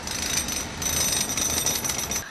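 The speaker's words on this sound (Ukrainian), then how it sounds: "працівники шляхбуду відбійним молотком збивають старий асфальт" A jackhammer breaks up old asphalt on a bridge, a loud, steady, harsh rattling hammering that runs continuously from start to end.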